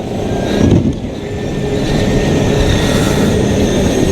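A go-kart engine drones steadily through a night race, a loud, continuous rumble close by with a brief surge early on and no pauses.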